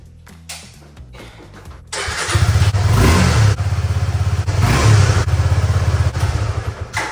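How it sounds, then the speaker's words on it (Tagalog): A motorcycle engine left unused for a long time starts after a few cranking attempts, then idles and revs loudly up close as it warms up, with rhythmic throttle swells. "Papainitin ko na lang muna itong motor kasi matagal nang hindi napapaandar."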